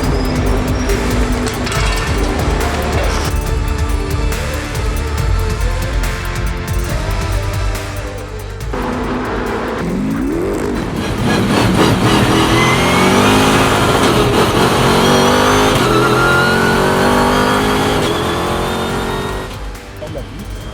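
Race car engine at the 24 Hours of Barcelona, loud and close, revving hard and accelerating through corners with gear changes and rising pitch sweeps, a continuous roar throughout with a voice speaking over it.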